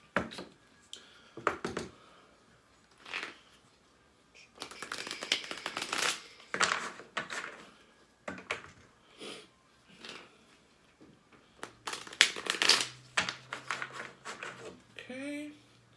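Tarot cards from a Miss Cleo Power Deck are shuffled in short, quiet bursts of papery riffling and slapping, separated by pauses, with a little soft speech nearby.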